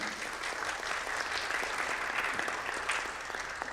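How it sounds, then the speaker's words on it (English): Faint, steady applause from the audience at a Board of Education meeting, continuous clapping heard at a distance throughout. "we should give a round of applause to Mrs. Dugan."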